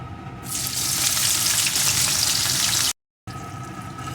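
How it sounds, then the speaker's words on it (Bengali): Chopped onion hitting hot oil with whole cumin and other whole spices, bursting into a loud, steady sizzle that holds continuously, cuts off briefly near the end, then resumes. "ফোড়নগুলো ভেজে নিয়ে এর ভিতরে আমি দিয়ে দেবো একটা পেঁয়াজ কুচি"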